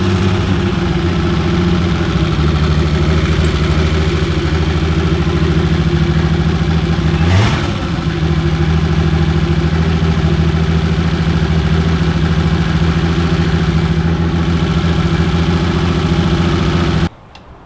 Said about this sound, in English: It made turbo noises.